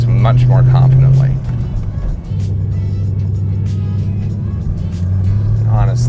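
A 2003 Corvette C5 Z06 with performance upgrades drives along, its engine droning steadily from inside the cabin with a low rumble that rises slightly near the end, while a person talks over it.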